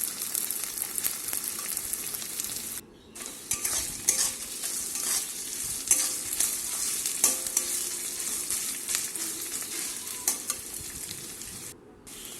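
Lote fish with onion and garlic is stir-fried in a pan, giving a continuous close sizzle under rhythmic scraping and stirring strokes. The sound breaks off twice for brief silent gaps.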